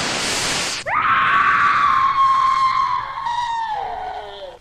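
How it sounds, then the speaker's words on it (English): A woman's loud, sustained scream from a horror drama recording, following a brief noisy burst, holds for several seconds at high pitch before slowly wavering and fading. "Why do you scream, my dear?"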